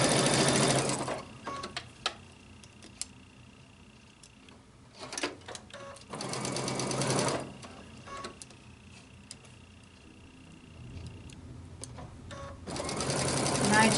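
A sewing machine stitches knit fabric in several steady whirring runs, each lasting a second or two, separated by pauses; the machine sounds close and moderately loud, and a voice speaks between the runs.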